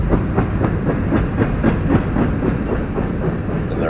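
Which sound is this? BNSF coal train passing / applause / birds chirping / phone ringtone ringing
BNSF coal train passing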